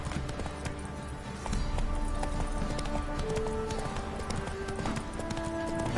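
Geralt's horse Roach gallops in The Witcher 3, a continuous rapid drumming of hooves that grows louder partway through and holds a steady driving rhythm, with no talk.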